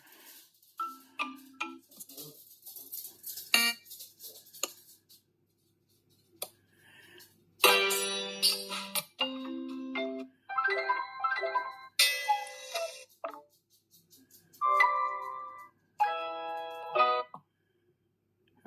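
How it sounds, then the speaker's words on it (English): A series of short electronic alarm tones and melodies from a spy security camera's phone app, each playing briefly before switching to a different one, with pauses between them. "you can have all different kinds of tones here"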